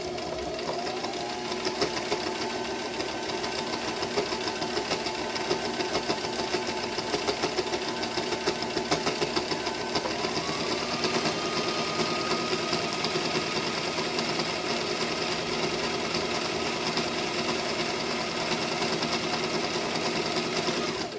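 A sewing machine back stitching a lanyard runs continuously at a steady fast rattle, its motor whine shifting pitch slightly midway, close and loud throughout with no talking.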